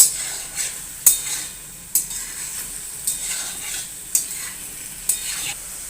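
Finely chopped onion frying in a pan for a chicken liver masala, a soft continuous sizzle broken by regular stirring strokes of a spoon roughly once a second, close up with no talking.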